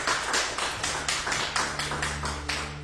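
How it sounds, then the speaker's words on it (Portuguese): A church congregation claps together in praise of Jesus during a worship service, a steady rhythmic beat of many hands repeating about every third of a second, close and fairly loud over a low sustained hum. "Palmas para Jesus"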